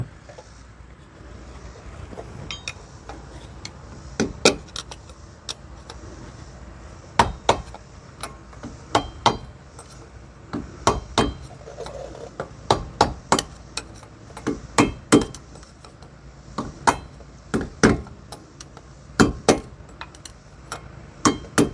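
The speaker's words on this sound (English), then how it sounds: "I'm going to take the hammer and I'm going to tap on this along the edges here to drive this thing back in place" Hammer tapping the edges of a wheel hub dust cap to seat it, sharp metallic knocks in irregular single and paired strikes, close and distinct over a quiet background.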